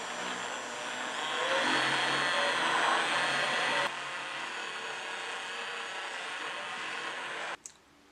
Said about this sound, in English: if you have a stick blender like I do, you just stick blender it for 2 minutes